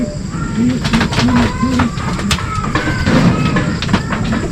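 Racing pigeons at a club training release, cooing in repeated low rounded calls close by, with wing flutters and background bustle throughout.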